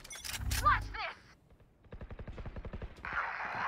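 Bursts of rapid automatic gunfire in a video game follow a short stretch of speech, then a steadier rattling noise closes the moment.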